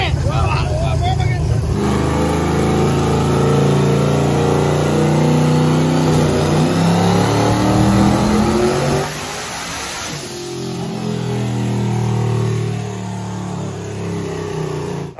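A big block engine on a dyno pull roars and climbs steadily in pitch, loud and close, then drops off before rising again; no talk is audible over it.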